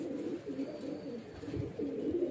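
Young highflyer pigeons coo softly and continuously, low murmuring calls close by over a faint background hum.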